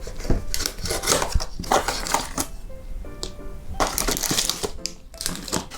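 Packaging for a MAXWIN smartphone holder is opened by hand, giving close crinkling, tearing and rustling of plastic and cardboard with a few taps, continuous for several seconds.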